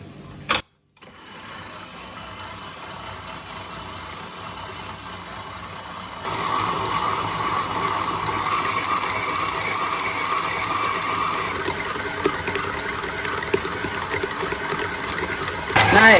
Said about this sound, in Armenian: Հիմա միացնում ենք խառնիչը, որպեսզի պատրաստվի խմորը։